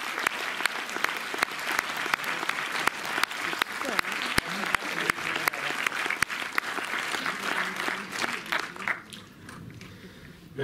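A cinema audience at the Méliès in Montreuil breaks into sustained applause, dense clapping filling the room for about nine seconds before thinning out and fading near the end.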